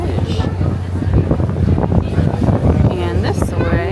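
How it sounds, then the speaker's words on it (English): Strong wind buffets the microphone on a San Francisco Bay ferry over a steady low engine rumble, with a person talking over the gusts. "We're on the ferry now. It's quite windy."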